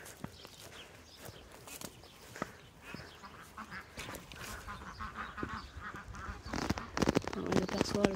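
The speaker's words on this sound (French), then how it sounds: "il y a des oies qui étaient en reproduction cette année" Geese, including breeding geese, honk intermittently at moderate distance on a poultry farm, mixed with quacking ducks and some rustling footsteps, fairly quiet overall.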